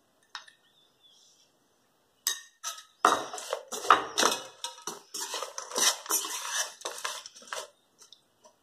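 A spoon stirs ghee in a pan for dry fruit barfi, with sparse clinks at first, then a busy run of scraping and metallic clatter that fades near the end.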